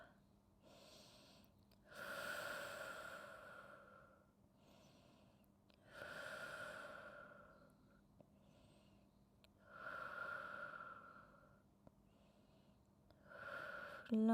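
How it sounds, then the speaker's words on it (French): Slow, deliberate breaths during a Pilates and stretching session, four long audible inhale-exhale cycles spaced evenly, close and soft, with no talking over them. "On inspire et on expire."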